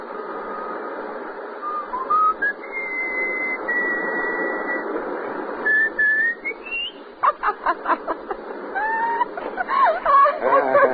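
A person whistles a melodic tune with sustained and gliding notes, then quicker chirpy phrases, over a steady background hum.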